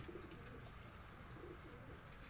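A Saharanpuri-Napta cross pigeon pair sits on eggs in a breeding loft, giving soft, low, repeated coos. The coos are faint and distant under steady background noise.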